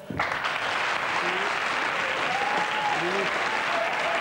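Steady, dense audience applause filling a radio studio throughout, with a few faint whoops and voices rising over the clapping.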